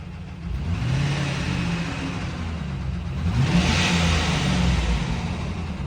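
A rough-running truck engine heard from inside the cab, idling with a low uneven rumble and then revving up and easing back, loud and close with no talk.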